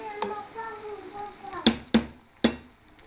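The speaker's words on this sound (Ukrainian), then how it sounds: "Ось тут я роблю таку зажарку з цибульки, зажарюю цибульку." Onions stir and sizzle softly in a frying pan, with a few sharp clanks of a utensil against the pan, quiet and close.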